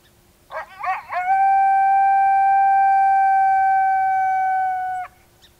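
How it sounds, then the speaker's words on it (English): Male lone howl played from a Lucky Duck Revolt electronic predator call, a loud, clear, wavering call that rises into one long steady howl lasting several seconds before ending abruptly, with no talk. "we're just going to do a male lone howl here"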